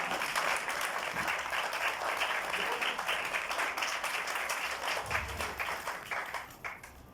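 A church congregation claps together in a fairly soft, distant-sounding round of applause, with individual hand claps audible in the texture before it thins and tapers off toward the end.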